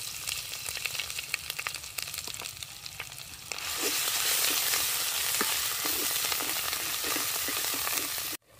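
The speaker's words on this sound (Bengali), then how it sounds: "মশলাটা ভালো করে কষিয়ে নেব" Spice paste with turmeric and chilli powder frying in oil for a raw banana kofta curry, crackling with scattered pops before swelling into a loud, steady sizzle that runs on alone until a sudden stop.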